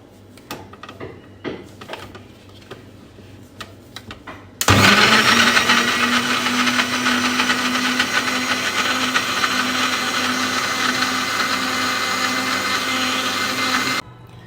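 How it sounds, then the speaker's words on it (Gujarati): A blender crushes a tomato and lemon juice mixture, starting abruptly after some quiet kitchen clatter and running loud and steady with a constant motor whine for about ten seconds before cutting off. "હવે આ મિશ્રણ તૈયાર છે એને આપણે ક્રશ કરી લઈએ બ્લેન્ડ કરી લઈએ"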